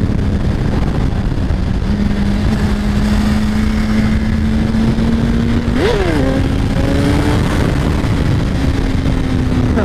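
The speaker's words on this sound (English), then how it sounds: "One of the main differences I can tell wheeling this bike is that uh, it picks up speed so fast." A 2017 Suzuki GSX-R1000 sportbike roars steadily and loudly through a wheelie, its engine note holding, then rising sharply in pitch as it accelerates before easing off again, with constant wind rush and no talking.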